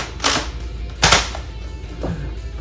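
A Nerf Elite 2.0 Flip 32 blaster fires foam darts in three sharp, close pops spaced about a second apart, the last one softer, with no talk.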